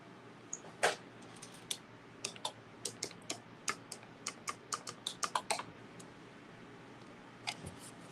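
A computer keyboard is typed on in a crafting room, giving a run of quick, crisp key clicks in an uneven rhythm, close and moderately quiet, with a couple of isolated taps near the end.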